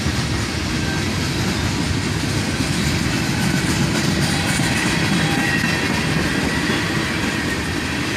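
Freight rail cars on a CSX train rumbling past nearby in the rain, a loud unbroken roar of steel wheels with faint rhythmic clacking over rail joints and light squealing, constant throughout.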